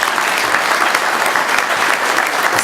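Loud, sustained applause from a crowd at a municipal election campaign closing rally, steady clapping filling the whole stretch without pause.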